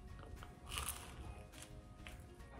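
A bite into a slice of buttered gluten-free bread made with Caputo flour, giving a soft crunch and crackle up close, faint and brief, with no talking.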